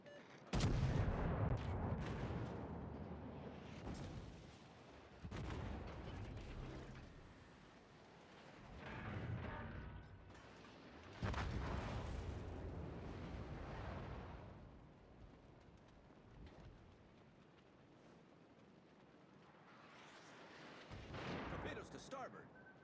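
Naval gunfire in World of Warships, heavy booming salvos and explosions rolling in several loud waves with long rumbling decays between shots, under in-game voice callouts.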